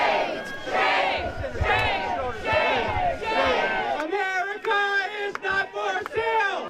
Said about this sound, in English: As guests began arriving, they were met by a crowd of protesters.